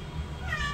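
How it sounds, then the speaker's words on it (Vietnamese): A domestic cat in a cat cafe gives one short, rising meow over a low background hum, close and fairly clear. "Đây là bé mèo ta của quán mình."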